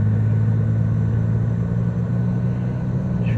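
Inside a 1998–2005 Lexus GS300 while driving, a steady low engine and road rumble with a constant hum, no voices.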